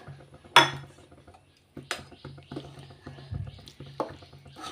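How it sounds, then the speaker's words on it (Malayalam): Lemon pickle is stirred in a pot after a little boiled water is added, giving scattered clinks and scrapes of a spoon against the metal, some louder knocks, with no talk. "നന്നായി ഇളക്കി കൊടുക്കുക"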